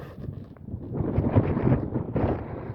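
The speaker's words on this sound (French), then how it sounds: "Ouais, le vent" Gusty wind buffets the microphone beside a carp fishing pond, a rough, rumbling roar that swells and fades in uneven bursts with no one talking.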